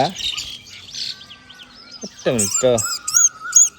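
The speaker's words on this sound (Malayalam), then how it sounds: "ഒരു പക്ഷി ഒരു കൂടിലെ കുടുങ്ങി" A small bird trapped inside a house gives short, high, rapidly repeated chirps, sharpest in the last second, alongside a person talking nearby.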